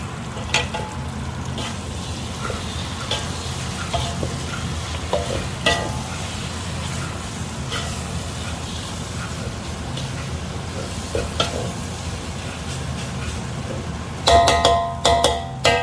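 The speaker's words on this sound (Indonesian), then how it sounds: "Nah, ini oncomnya udah sekarang tinggal kita aduk." Oncom, a fermented soybean cake, being stirred in a frying pan, with a steady sizzle under scraping strokes and a few sharper clinks toward the end.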